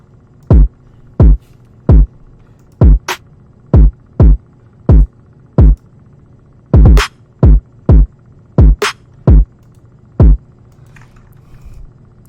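A punchy kick drum thumps in a steady, spaced pattern, each hit short and booming, with a few quicker double hits along the way.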